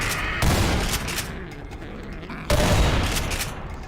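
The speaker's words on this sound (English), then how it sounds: "Although shotguns don't actually do this, the right click allows you to shoot 2 shells at the same time" Two heavy shotgun blasts in Half-Life 2, each a loud, broad boom fired as a double-shell shot, roughly two seconds apart with ringing decay between them.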